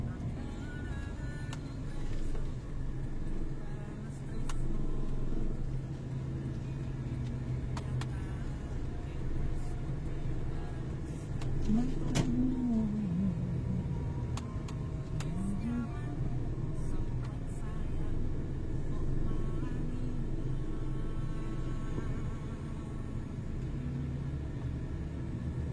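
Road traffic in a jam at Jatingaleh, Krapyak, during the Lebaran homecoming rush, a steady low rumble of idling and slowly moving cars heard from inside a vehicle, with occasional engine swells and faint voices.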